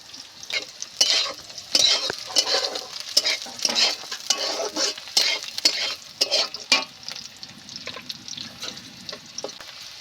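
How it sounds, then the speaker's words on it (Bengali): Green chillies fry and crackle in a hot pan, with a spatula scraping and stirring in repeated close strokes over an even sizzle, with no voices. "কাঁচা লঙ্কা দিয়ে দেব।"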